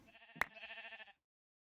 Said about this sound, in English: I am going to mark the sheep here.